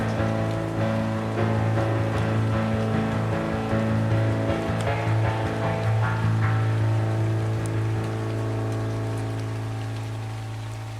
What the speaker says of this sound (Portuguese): Lá fora, a chuva apertou.